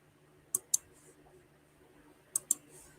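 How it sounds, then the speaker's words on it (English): A sticky computer keyboard giving two pairs of sharp, isolated key clicks with a long gap between them, close against a quiet room. "My keyboard sticks and all my letters don't come out, so I always have to retype it."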